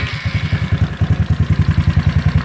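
A small GY6 scooter engine idles close by with a steady, rapid chugging pulse, loud and unbroken for the whole stretch.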